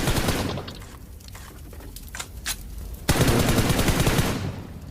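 An M4 rifle fires in a shooter game, dense rapid bursts of gunshots with a sharp break in the middle before sustained firing resumes, loud and with no talk over it.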